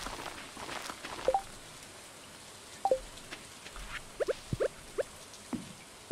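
Rain falling in the farming video game Stardew Valley, a quiet steady hiss broken by several short, sharp tones and taps from in-game actions scattered across the stretch.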